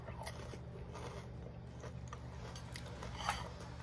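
Crunchy bites and chewing on Alexia waffle fries, close to the mic, with a few sharp crunches against a steady low background hum.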